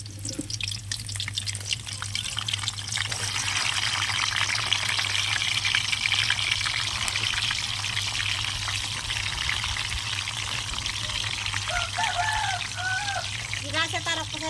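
Bitter gourd sizzles in hot oil in a village-style kitchen, a steady crackling hiss running throughout with a few brief metallic clinks, while people talk over it.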